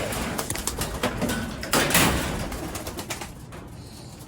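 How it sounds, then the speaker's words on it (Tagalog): Pet pigeons coo at feeding time, low throaty calls amid rustling and a burst of fluttering or shuffling, close by and without talk. "Pakain tayo ng ating mga alagang ibon."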